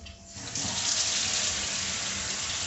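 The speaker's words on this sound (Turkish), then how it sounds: "Şimdi ilk etap biraz bir çalkalıyorum ve musluğuma bunu dökeceğim." Water gushes steadily through the tap of a fermentation bucket being rinsed, a close, continuous splashing rush that starts with a brief trickle and then flows at full strength.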